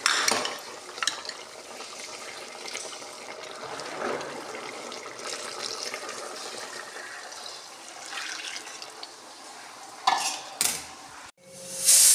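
A spoon scrapes and stirs coconut masala in oil in a pan over a soft sizzle, with a few sharp metallic clanks near the end.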